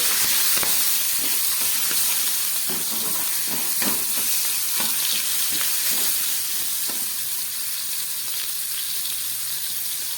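Pumpkin, potato, pointed gourd and a little eggplant fry in a pan with shrimp, a loud steady sizzle and hiss that runs throughout, with scattered soft clicks from stirring.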